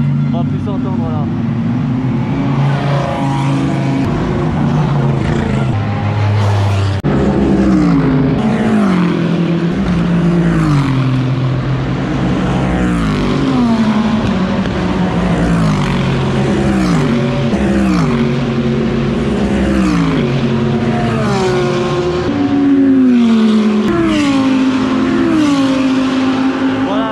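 Mercedes AMG GT3 Evo turbo race car engine revving loudly and continuously, pitch climbing and dropping through repeated gear changes, with a person talking over it.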